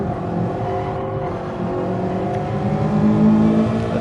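Race car engine in Gran Turismo Sport on the PS5 at the Bathurst circuit, a steady sustained drone that holds fairly level with a slight rise in revs near the end, no talk over it.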